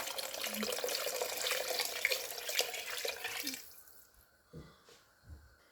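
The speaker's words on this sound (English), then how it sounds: "we're going to add our water in. This is 4 cups here. So we add it in." Water pours into a soup pot for homemade chicken noodle soup, a steady rushing splash for about four seconds that then stops, followed by a few soft knocks and drips.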